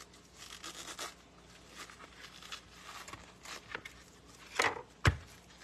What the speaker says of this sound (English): All I'm doing is separating my cabbage leaves right now and frying our hamburger behind me.